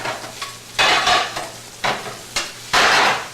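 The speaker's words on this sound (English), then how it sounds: "we're caramelizing the onions" Caramelizing onions in a pan, with close stirring and scraping strokes at irregular intervals over a steady low sizzle, fairly loud and with no talking.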